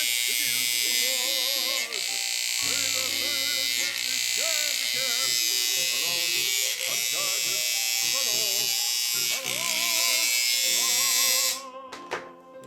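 A loud, harsh Wahl 5 Star electric hair clipper buzz, its blade tension too loose, drones continuously for about eleven seconds with a rattling edge, someone talking over it, then it cuts off.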